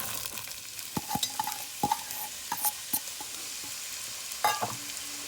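Onions frying in two tablespoons of melted butter for potato leek soup, a soft steady sizzle punctuated by repeated spoon-on-pan clinks and scrapes as they are stirred, close, with no talking.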